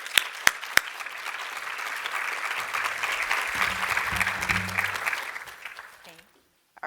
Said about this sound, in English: please join me in giving Olivia Eaddy a very, very warm welcome and round of applause